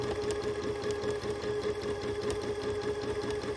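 A sewing machine running steadily during free-motion quilting, a continuous close mechanical whir with a fast needle rhythm throughout, without talking.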